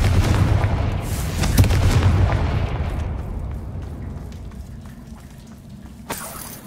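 A Confringo fire spell bursts in Hogwarts Legacy as a loud, heavy blast that rolls off into a long, fading rumble, with a sharp crack near the end.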